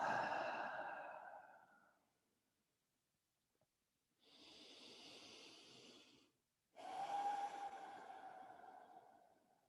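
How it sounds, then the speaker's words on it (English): Deep breathing in a yoga session for people with Parkinson's: a long, heavy exhale fading out, a pause, then a hissing inhale and another breathy exhale, close and intimate with no speech. "Take a deep breath"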